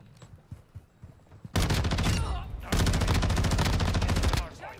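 Tempus Razorback rifle fire in Modern Warfare 2, two long sustained bursts of rapid automatic shots, loud and close, after a quieter stretch of faint game sounds.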